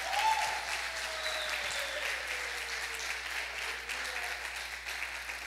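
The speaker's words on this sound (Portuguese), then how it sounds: "aplaude a Jesus." A church congregation claps and applauds together in a steady, dense wash of sound that stays loud and even throughout, with faint voices mixed underneath.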